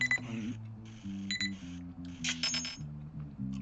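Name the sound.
alarm clock going off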